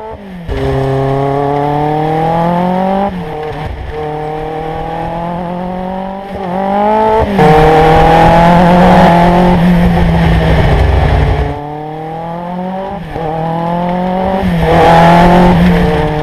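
A roughly 40-year-old vintage car climbs Mont Ventoux, its engine loud and close, revving up through rising gears in repeated sweeps with brief drops between shifts.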